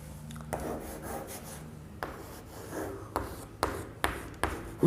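Pen writing notes on paper, soft scratchy strokes with several sharp taps as letters are finished, close and quiet with no talking.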